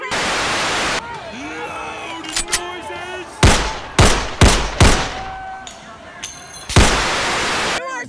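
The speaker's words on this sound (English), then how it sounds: "We have people lighting fireworks." Cartoon fireworks burst in a run of sharp, loud bangs during an animated comedy sketch, framed by hissing static-like noise at the start and end, with voices heard between the blasts.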